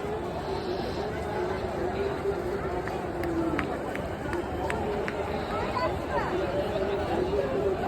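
A large crowd moves through the Maha Kumbh grounds near the Triveni Sangam in Prayagraj, with a steady dense babble of many voices and footsteps, and a voice talks over the din.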